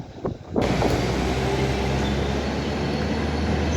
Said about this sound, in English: my train's pulling in. I've not been on one of these trains before. It's a class 195.